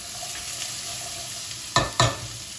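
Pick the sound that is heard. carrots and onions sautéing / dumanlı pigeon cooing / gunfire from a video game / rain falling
carrots and onions sautéing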